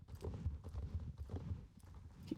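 Steady clip-clop of horse hooves at a trotting rhythm in the video game Star Stable Online, close and fairly loud, continuing throughout with no talking.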